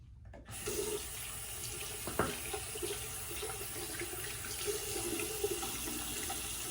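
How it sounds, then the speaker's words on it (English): Running tap water streams steadily while razors are rinsed under it, a close, even hiss with a few faint clinks and splashes. "Both razors rinse out very easily."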